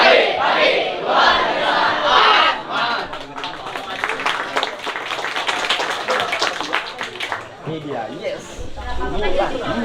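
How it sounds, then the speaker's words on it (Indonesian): An audience claps and cheers after a speaker finishes at an event, with dense, loud applause and shouts. A voice talks over the clapping. "Beri tepuk tangan sekali lagi yang meriah untuk Bapak Syarif Ibrahim."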